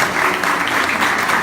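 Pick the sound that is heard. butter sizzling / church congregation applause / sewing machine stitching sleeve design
church congregation applause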